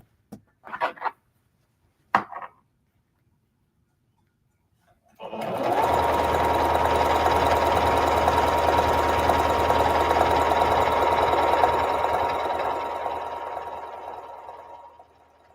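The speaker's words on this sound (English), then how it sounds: "I'm following the line, one of the pleats on the sewing machine." A sewing machine runs steadily and loudly for about ten seconds, stitching along the line of a skirt pleat, after a few brief knocks and a pause.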